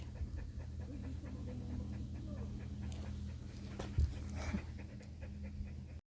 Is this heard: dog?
yes